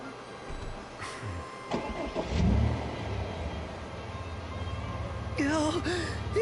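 A car engine in the Final Fantasy XV Episode Duscae demo cranks and catches, a mid-pitched rumble that builds and settles into an idle, with game voices talking over it near the end.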